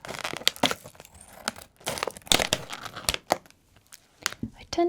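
Close, irregular crinkling and crunching of snack packaging as scissors work at the plastic, with bursts of rustle and soft speech woven between the cuts.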